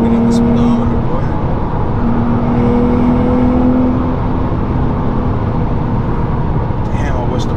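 A Nissan GT-R's engine drones loudly from inside the cabin as the car speeds up, a steady roar mixed with road and wind rush, while people talk under it.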